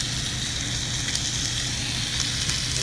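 Meat sizzles steadily on a hot grill, a continuous loud crackling hiss with faint pops throughout.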